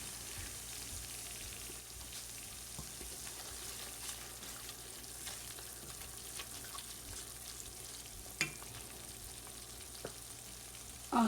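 Shahi paneer masala with yogurt frying in a pan, a steady soft sizzle running throughout with faint stirring scrapes and a brief clatter near the end.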